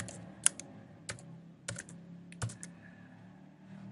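A name is typed on a computer keyboard: a handful of separate, crisp key taps spaced irregularly over a few seconds, close and fairly quiet, with no talking.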